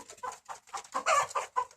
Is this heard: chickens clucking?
yes